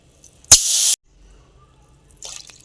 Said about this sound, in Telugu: 4 గ్లాసులు వాటర్ పోసుకుంటానండి